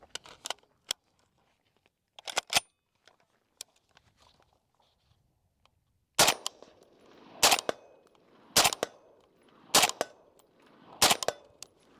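Suppressed gunshots from Scar and Bren rifles firing 5.56 ammunition ring out as sharp, loud single reports: a few scattered shots at first, then five evenly spaced shots at a steady, unhurried pace.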